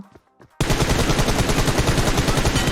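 Rapid automatic gunfire in a video game bursts in loudly after a brief quiet moment and continues as a dense, sustained rattling stream to the end.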